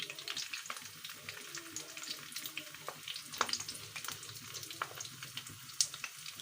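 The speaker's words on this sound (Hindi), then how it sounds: "अब हम इनको फ्राई करेंगे।" Potato seekh kebabs fry in hot oil with a steady, close crackling sizzle and scattered sharp pops throughout, no voices over it.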